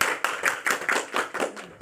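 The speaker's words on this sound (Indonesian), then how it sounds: "tepuk tangan." A classroom audience of students claps after a group presentation, with a handful of distinct, fairly rhythmic claps sounding close and moderately loud over about two seconds.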